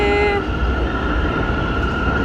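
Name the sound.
New York City subway train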